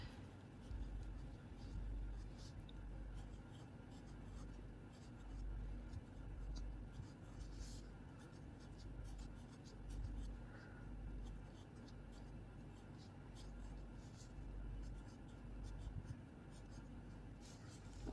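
Pen or marker scratching on paper while a histopathology diagram of a calcifying epithelial odontogenic tumour is drawn, with polyhedral cells sketched in soft, steady strokes over a low background rumble of passing road traffic.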